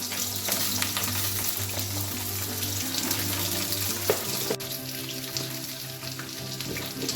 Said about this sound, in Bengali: আলু পটলটার জন্য পটলটা ভাজা করতে বসিয়ে দিলাম।